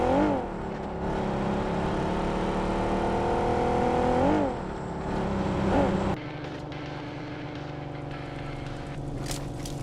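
A vehicle in BGMI drives with its engine revving and surging in pitch, then settles into a lower, rougher drone as the ride continues.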